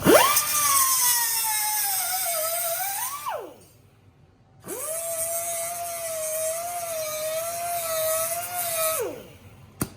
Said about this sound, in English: then we will use a cutoff tool to cut off the excess amount of threaded stock here